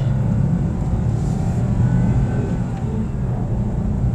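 Interior drone of a 2024 Toyota Wigo with a 3-cylinder engine on the move, a steady low engine and road rumble filling the cabin without any break.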